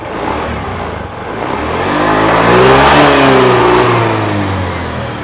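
A Honda Beat FI scooter with a fuel-injected engine starts and idles nearby, its engine hum swelling in a rev toward the middle and then settling. The sound is loud and close, with no voices.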